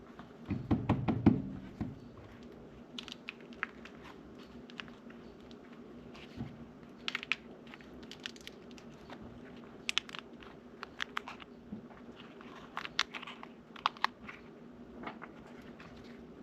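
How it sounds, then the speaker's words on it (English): Sawdust-and-wax fire starters are forced out of their molds, giving a scatter of small sharp knocks, pops and crackles, irregular and close, with a heavier burst of handling near the start over a faint background hum. "it did take a little bit of force to get these out of their molds"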